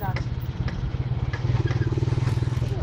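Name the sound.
damaged motorcycle rattling on a downhill ride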